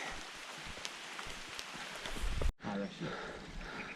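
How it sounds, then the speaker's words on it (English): Rain falls steadily on a Mount Kinabalu hiking trail, a dense close hiss with patters and drops, a brief break, then continued rainfall; someone talks over part of it. "So it started raining"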